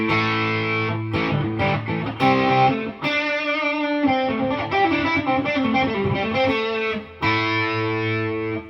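Gretsch 5420 TG-59 electric guitar played through a Boss Katana with heavy distortion and a wash of reverb, sustained chords and riffs ringing out continuously, close and loud, with no voices.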